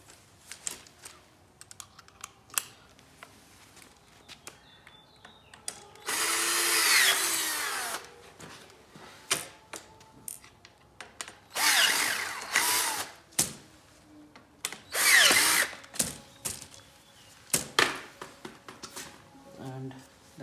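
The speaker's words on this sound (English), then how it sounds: "And just tighten all these 4 screws." Power drill driving screws into outdoor sectional patio furniture: three short, loud whirring bursts separated by clicks, clatter and handling noises, close by.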